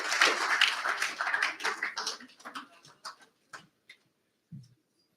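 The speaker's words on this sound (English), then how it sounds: "Another round of applause, please, for him" Audience applause at the Pasifika Fusion 2024 speeches, a dense wash of clapping that is loud at first, then thins into scattered, fading claps before trailing off to near silence.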